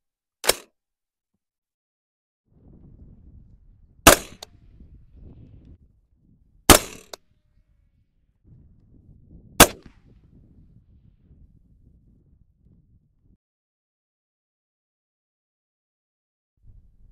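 A 300 Blackout rifle fires supersonic rounds at a range from the 150-yard line. Four sharp, loud cracks come roughly three seconds apart, with low rustling and quiet between them.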